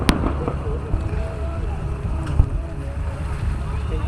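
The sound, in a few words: fireworks exploding at Freedom Fair show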